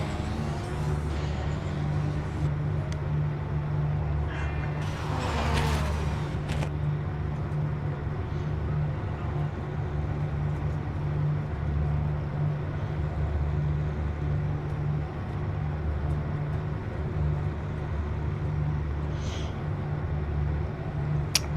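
Race car engines from the PMR racing video game drone steadily throughout at moderate level, a continuous low rumble with a brief brighter burst partway through, with no talking.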